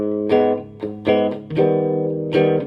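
Monoprice 15W guitar amplifier with the gain turned up, giving a slightly broken-up, overdriven electric guitar tone: a few strummed chords ringing out loud and close, with no talking.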